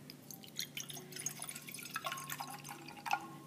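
Hydrogen peroxide is poured for a reaction-rate and catalyst chemistry demonstration, giving faint, close liquid trickling with scattered small drips and splashes against a low steady hum.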